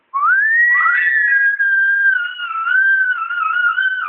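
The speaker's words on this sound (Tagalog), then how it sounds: "Sipol, sipol." A single person whistles a sustained, wavering tone up close, sliding slightly in pitch with a brief break midway.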